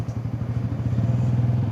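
A Bajaj Pulsar N160 4V motorcycle ridden on the Gurgaon–Faridabad road gives a steady, pulsing single-cylinder engine drone with a rhythmic thrum, close and fairly loud, with no talk.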